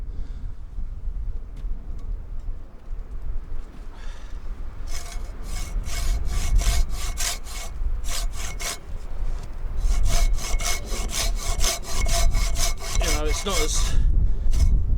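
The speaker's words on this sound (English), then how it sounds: "as you can see when I'm sawing this piece of timber" Hand saw strokes cut through timber in a steady back-and-forth rhythm, close and fairly loud, speeding up partway through, at a winter bushcraft camp.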